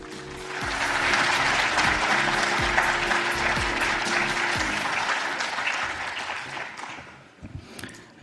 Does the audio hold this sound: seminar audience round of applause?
yes